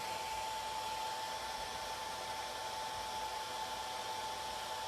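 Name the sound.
hairdryer drying paint on a miniature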